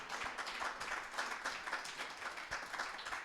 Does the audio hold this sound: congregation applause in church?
yes